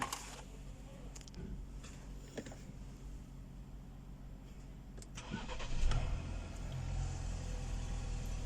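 Quiet rattling and clicks give way to a Ford Escape engine that had failed to start cranking and catching near the six-second mark, then settling into a steady low idle rumble.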